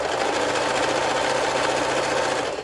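A serger stitches stretchy fabric for a heart-shaped plush pillow, running as a loud, continuous rapid whirring buzz without pause.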